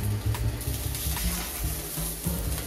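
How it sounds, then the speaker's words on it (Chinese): Mushrooms and bacon fry in oil in a pan for a cream sauce, producing a continuous close hiss and sizzle with light stirring bumps and no speech. "先倒点油下去，把蘑菇跟培根先下去炒"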